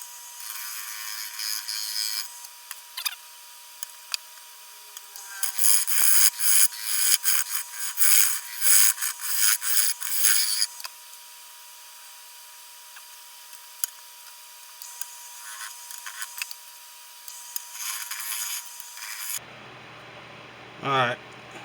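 Rough, uneven scraping and rasping bursts from trimming the outside of a white ash wooden bowl, clustered in a loud stretch and then scattered more faintly, with some talk.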